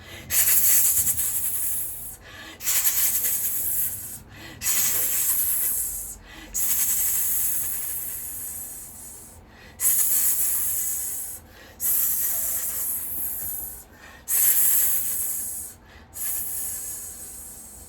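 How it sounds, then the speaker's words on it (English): A rattle is shaken in long, steady hissing bursts of about two seconds each, separated by brief pauses, loud and close with no other sound. "Just like I'm shaking that rattle."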